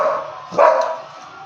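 A dog named Sleepy lets out a single short bark partway through, close by, over a steady background hum.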